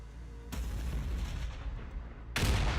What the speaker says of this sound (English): Enemy units attacked by Basilisk artillery crews gain the artillery target status.